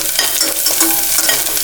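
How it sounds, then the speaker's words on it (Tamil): Powdered asafoetida drops into hot oil for thoothuvalai rasam and sizzles steadily and loudly up close, a dense continuous crackle with faint stirring and no voices. "நான் தூள் பெருங்காயம் கட்டி எண்ணெயில் போடுறேன்"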